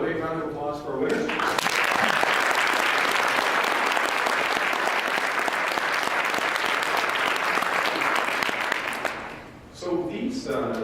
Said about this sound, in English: how about a big round of applause for our winners?